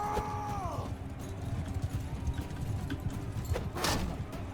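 Horses' hooves clip-clop in the Mount and Blade Bannerlord video game, a steady fairly close patter under game noise, with a brief whinny-like tone near the start and a sharp clatter toward the end.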